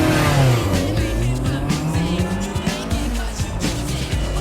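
A race car launches hard from a racing start, its engine roaring loud and close with rising revs through gear changes and tire squeal at the getaway, no talking over it.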